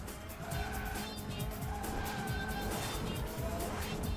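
A kart drifting in the racing game Sonic & All-Stars Racing Transformed, a steady engine whine with a long sustained tire squeal over upbeat game music.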